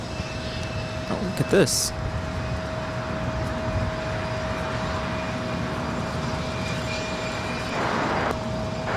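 An SAS Scandinavian Airbus A350 airliner taxis across runway 25 right at LAX, a steady distant jet engine rumble and hum beneath airport ambience, with a short exclaimed remark from a nearby person early on.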